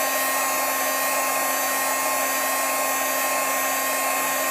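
A heat gun blows a loud, steady hot-air roar throughout while warming the back of a glitter name tag, with no pauses or other sounds.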